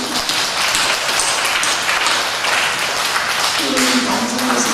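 A Korean church congregation gives a big round of applause for Jesus and Moses, broad continuous clapping with a few voices and a musical tone rising near the end.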